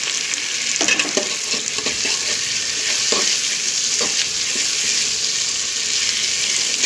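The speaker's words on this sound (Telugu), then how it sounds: "అవి వేగాక టమాటా ముక్కలను వేసి వేగనివ్వాలి" Tomato pieces and curry leaves frying in a pan for a curry, a loud, continuous sizzle with occasional soft stirring knocks throughout.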